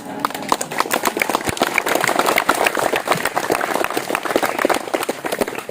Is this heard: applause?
yes